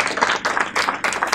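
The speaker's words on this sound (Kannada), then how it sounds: "ಅವ್ರಿಗೊಂದ್ಸಲ ಜೋರಾಗಿ ಚಪ್ಪಾಳೆ" An audience at a film promotion event in Davanagere claps for a choreographer: a brief burst of fast, uneven hand claps, fairly close and steady.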